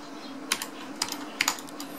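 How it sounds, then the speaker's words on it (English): Crisp clicky keystrokes on a mechanical keyboard, a few isolated taps spaced unevenly across a quiet background with no talking. "I'm just gonna type it by hand, because so you guys can admire the clickiness of a mechanical keyboard."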